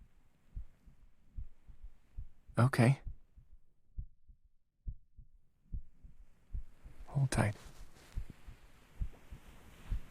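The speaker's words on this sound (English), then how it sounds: "Are you listening to my heartbeat?" Soft, steady heartbeat thumps repeating at a slow, even rhythm close up, with a gentle whispered voice speaking briefly over them in an intimate ASMR setting.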